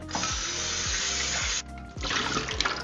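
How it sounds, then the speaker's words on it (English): Tap water runs loudly into a pressure cooker pot as it is rinsed out, a steady broadband gush with clunks of the metal pot being moved, briefly interrupted before the stream resumes. "We're gonna set them aside and rinse out our pressure cooker pot."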